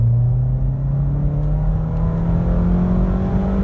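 A Ford Fiesta ST with an X47 turbo on 93 pump gas is floored in third gear, giving a loud, steady engine drone that climbs slowly in pitch, heard close from inside the car.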